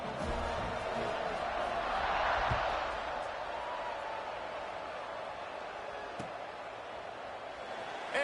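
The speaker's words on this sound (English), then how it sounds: "this crowd is buzzing after that last score" A football stadium crowd after a touchdown fills the air with a steady, broad roar and murmur, rising a little before easing back to a constant buzz.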